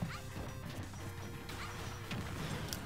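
Super Smash Bros up smash attack landing: sharp smacking hits and crashes over a busy, continuous game soundscape, with a few distinct impacts across a few seconds.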